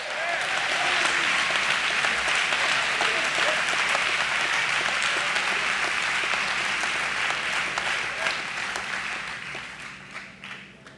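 A congregation at a church family camp claps loudly for a long stretch, with steady dense applause that slowly fades toward the end and faint voices beneath it.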